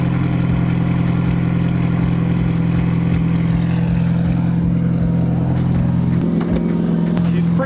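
A turbocharged Chevy Cruze running on E85 idles steadily with a smooth, even drone and a low hum, heard up close under occasional speech.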